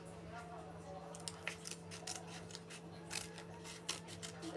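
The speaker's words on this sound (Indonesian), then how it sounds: "Ini kemudian kita akan gunting ya, gunting." Scissors snip through plastic drink-cup packaging, a series of sharp, close crisp cuts at an irregular pace over a faint steady background hum, with a voice speaking quietly at times.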